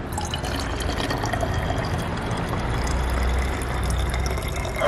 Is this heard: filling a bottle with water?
yes